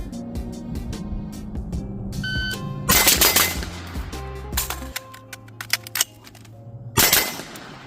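Suppressed rifle fire from a 7.62 rifle fitted with an Otter Creek Labs Infinity suppressor on an FCD/Revival Defense 3 prong, a cadence of sharp shots at about 15 yards with a reload, outdoors, several loud reports spaced seconds apart.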